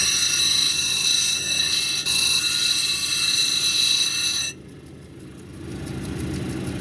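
Indigo gabbro cabochon being domed on a cabbing wheel, a steady loud whirring grind for several seconds, then a sudden drop as the stone lifts off, leaving a softer machine hum that builds again.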